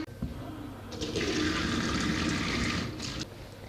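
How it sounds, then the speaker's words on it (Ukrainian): Water rushes from a tap in a strong, steady stream for a few seconds, then cuts off. "І вода з крана тече."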